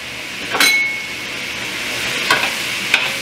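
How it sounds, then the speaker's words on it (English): A steady, soft sizzle of chicken frying in a pan, with a few sharp metallic clinks of a utensil against the pan. "While my last batch of chicken is frying"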